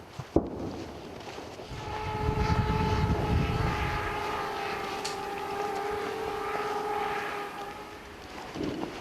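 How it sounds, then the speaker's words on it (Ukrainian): A military drone drones steadily overhead near the front line, a continuous propeller whine with a sharp crack at the start, with no talking. "зричання дронів над головою, здається, не змовкає ні на мить"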